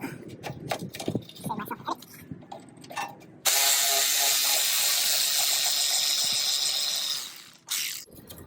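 Scattered metallic clicks and handling noises give way to a long, steady run of rapid ratcheting from a 10mm socket wrench on a 1969 VW Bus header, loud and close, ending abruptly.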